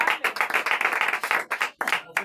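A church congregation claps and cheers to welcome a woman to the front at a Sunday fasting service, with dense, fairly loud bursts of clapping that break off briefly and then resume.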